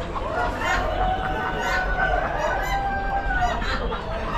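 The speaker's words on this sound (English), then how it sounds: "Buff hens." Buff hens cluck and murmur among other poultry at an Amish auction, with a rooster crowing in drawn-out calls amid a busy, crowded background and people talking.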